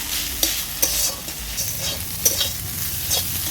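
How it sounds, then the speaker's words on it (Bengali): Ash gourd leaves being stirred and fried in a pan, a steady hiss of sizzling oil broken by a few sharp scraping clatters of the spatula against the pan, close and continuous with no talking. "শাকটা ভালো করে নেড়ে চেড়ে নিচ্ছি।"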